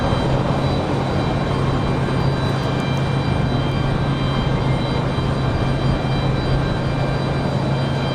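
An Aeromexico airliner takes off from runway 23 left at Raleigh-Durham, its engines a loud, steady, broadband roar that holds even and continuous throughout, with no talk over it.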